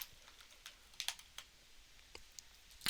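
Keys tapped on a computer keyboard to enter a value, a few quick clicks spaced unevenly, close and fairly quiet, with no talking.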